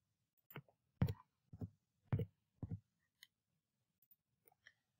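Keys on a computer keyboard tapped in an irregular run of close, crisp clicks, a few louder strikes then lighter scattered taps in a quiet room.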